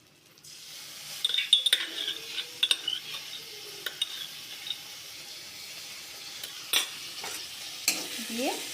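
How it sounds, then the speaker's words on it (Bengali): Beaten yogurt is stirred into cooking spices in a wok for veg aloo dum. A soft, low sizzle runs under scattered spoon scrapes and metallic taps that come louder at intervals, with no speech. "দিয়ে কড়ার মধ্যে নেড়ে চেড়ে নেব"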